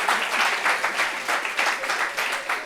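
Audience applause at a talk-show gathering, a steady wash of many hands clapping at moderate volume, rising and falling in gentle waves for a few seconds with no voices on top.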